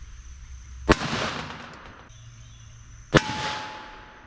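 Two sharp .38 Special gunshots fired into homemade ballistics gel, each a loud crack with a short ringing decay, about two seconds apart in an otherwise quiet outdoor setting.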